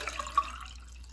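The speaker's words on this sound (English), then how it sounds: "So let me pour this into this glass." Water containing molecular hydrogen is poured into a glass, making a soft, faint trickling with a few small drips and splashes over about a second, close by with no voices.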